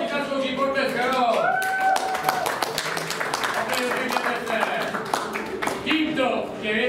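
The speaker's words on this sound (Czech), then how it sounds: "To si zaslouží potlesk, ano." Audience clapping in a crowd at an event, uneven sharp claps over several seconds mixed with voices talking and calling out.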